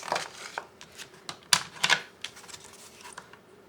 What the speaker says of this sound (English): I'm going to go ahead and score my card base